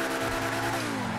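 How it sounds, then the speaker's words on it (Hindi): A Lamborghini Sian in GTA 5 drones with a steady, loud engine note that rises slightly in pitch as it drives, with no talking over it. "गाड़ी आवाज भी अच्छी है यार"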